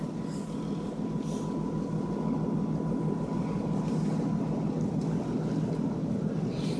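A boat passes on open water near a submarine support area, its engine a steady low drone that holds at an even level throughout, with wind buffeting the microphone.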